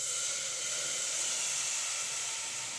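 Sheera batter poured into a hot pan with the gas turned off gives a steady, even hiss and sizzle that holds at the same level the whole time, with no talking.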